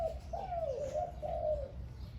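A Liu tan songbird sings a continuous run of clear, warbling whistled notes in two connected phrases, close and distinct against a low background rumble, with no voices.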